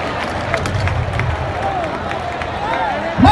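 Crowd at a Valencia bull-leaping recortes contest clapping in a steady rhythm under loud hubbub and cheering, with an announcer's voice rising near the end.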